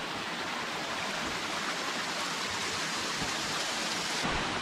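A waterfall on a trekking trail near Kakkadampoyil, Kerala, roars as steady, dense broadband rushing water throughout, loud and unbroken, with no voices.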